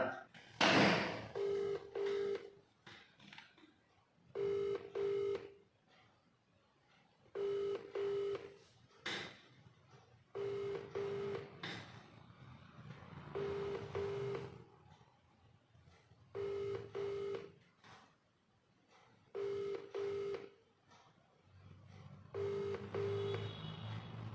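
An outgoing phone call rings unanswered, with a ringback tone repeating in evenly spaced double bursts about every three seconds, fairly faint, with low background sounds between rings.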